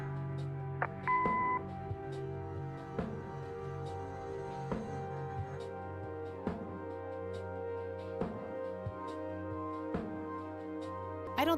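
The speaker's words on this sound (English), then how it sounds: "Leave a message after the beep." A short electronic answering-machine beep from the video game Kathy Rain sounds once over a steady musical background, with faint clicks scattered throughout.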